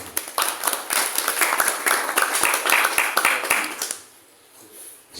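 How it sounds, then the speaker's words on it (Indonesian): Audience applause at a talk about village history activists in Bedanten: dense clapping from a crowd for about four seconds, then tapering off into quiet room tone. "Beri tepuk tangan."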